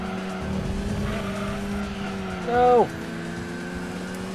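Race car in Gran Turismo 2 braking hard into a loud tire skid and squeal over a steady engine drone, in a Clubman Cup race; the screech lasts under a second before the engine tone carries on.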